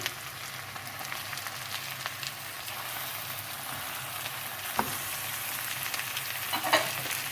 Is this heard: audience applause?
no